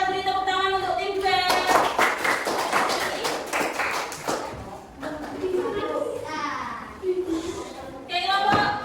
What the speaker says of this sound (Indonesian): kita beri tepuk tangan untuk tim B.